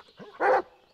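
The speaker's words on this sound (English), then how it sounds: "Doggy." A single short dog bark, fairly faint and alone, with a little low rustle before it.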